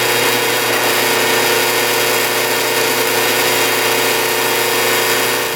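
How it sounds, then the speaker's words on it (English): A drill bores a hole into a wooden drawer pull, a steady, loud motor drone with a constant pitch running throughout, alone with no talking. "get that one drilled"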